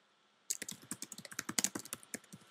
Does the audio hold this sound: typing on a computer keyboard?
yes